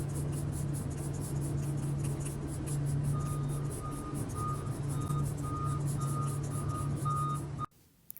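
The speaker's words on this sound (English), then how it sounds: "That's the feed truck on this farm." A farm feed truck pulls in nearby, its reversing alarm beeping in a steady, evenly spaced rhythm over a loud low engine drone; the sound cuts off abruptly near the end.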